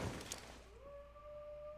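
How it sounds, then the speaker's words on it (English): Dog howling outside a window at night, a single thin drawn-out wail rising and holding, faint and distant after a brief rustle. "I can still hear the dog howling outside my window."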